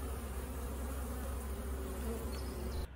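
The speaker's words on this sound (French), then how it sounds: "du pollen que les abeilles récoltent sur les saules et les noisetiers à cette époque de l'année" Honeybees collecting pollen from willow and hazel blossoms in spring make a dense, continuous buzzing drone, close and steady throughout, with no voices.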